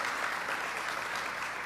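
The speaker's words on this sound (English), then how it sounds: "Let's give him a round of applause." A crowd at a public event with New York Governor Kathy Hochul on investing in East Buffalo claps in steady, dense applause, even and sustained throughout, with no talk over it.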